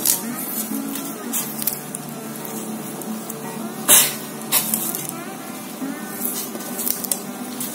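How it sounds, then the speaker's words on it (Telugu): Water for a homemade kashayam, a herbal brew for colds and sore throat, boils steadily in a pot, giving a continuous hissing, bubbling rush with a few sharper pops and surges. "ఇప్పుడు ఇలా వాటర్ బాయిల్ అవుతుంది కదా,"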